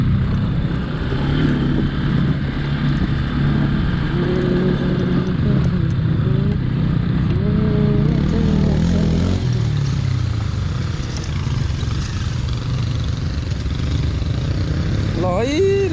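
Bajaj Pulsar NS200 and RS 220F motorcycles riding off-road in a group of four bikes, engines droning and revving close by throughout under steady wind rumble, while people talk over the noise.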